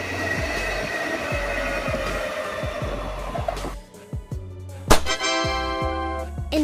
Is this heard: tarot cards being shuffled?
no